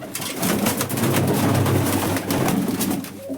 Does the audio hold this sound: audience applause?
no